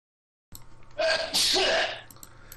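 A single loud, close sneeze with a sharp burst and a short trailing breath, heard alone without talk.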